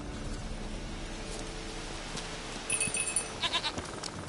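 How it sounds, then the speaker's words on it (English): A goat bleats in The Witcher 3 video game, giving a few short, faint bleats in the second half over a steady hiss of ambient background noise. "Here, goat."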